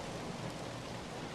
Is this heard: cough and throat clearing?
no